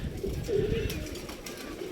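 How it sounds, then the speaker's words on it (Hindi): Pigeons out in the sun cooing softly nearby, a brief low coo over faint outdoor background. "देखिए माशाल्लाह धूप में सारे कबूतर निकाले हुए हैं।"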